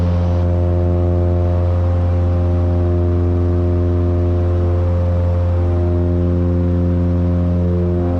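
Twin piston engines of a Piper Seminole climbing out after takeoff with gear retracting, a loud steady droning roar with strong harmonic hum, unbroken and close throughout.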